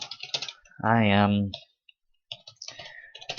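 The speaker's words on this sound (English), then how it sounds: "It's hard for me to type looking at the screen all the time" Rapid clicking of keys on a computer keyboard comes in bursts before and after a brief spoken phrase, close and crisp.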